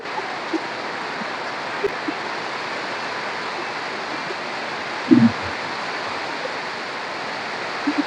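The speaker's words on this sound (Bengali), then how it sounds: "প্রচুর ঝড় বৃষ্টি শুরু হয়ে গেছে এখনো বন্ধ হচ্ছে না" Heavy rain during a storm, a constant dense outdoor wash of falling water with a few faint knocks and a brief low thump partway through; no voices.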